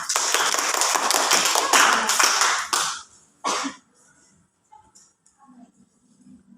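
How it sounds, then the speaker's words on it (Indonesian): A class of students claps briefly in a classroom, a short burst of hand clapping lasting under three seconds, then a lone clap and quiet murmuring voices. "Tepuk tangan."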